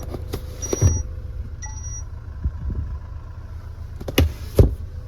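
Electrically folding side mirrors on a 2012 Peugeot 508 give short motor whirs, with a couple of faint clicks and thumps, quiet against a still car interior.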